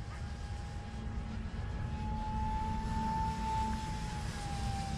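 A 3D-printed J10 model jet with a 50mm ducted fan flies low and slow through a flat spin, giving a steady, fairly loud whining drone with a sustained tone that shifts slightly in pitch throughout.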